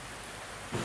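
Rain falls steadily as a broad, even wash of noise, with a low rumble swelling near the end of the short stretch.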